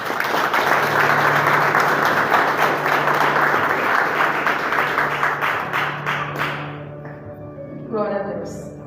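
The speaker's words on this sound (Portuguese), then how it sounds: "As palmas do Senhor." A church congregation applauding, dense sustained clapping from a crowd that holds steady for several seconds before fading out, followed by a voice.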